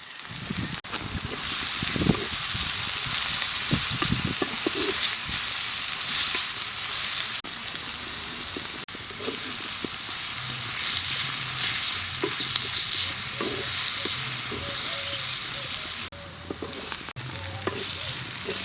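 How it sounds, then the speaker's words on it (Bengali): Bay leaf, garam masala, cumin powder, chili powder and tomato sizzle and crackle in a hot small kadai, with occasional stirring scrapes and clinks over the steady frying hiss. "মশলাটা আমার ভাজা হয়ে গেছে"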